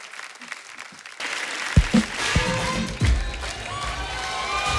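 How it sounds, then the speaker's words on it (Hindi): A studio audience on a Hindi comedy show applauds Akshay Kumar. The clapping starts softly, then swells into loud, sustained applause from a crowd, with a few thumps and some voices mixed in. "जोरदार तालियां अक्षय पाजी के लिए।"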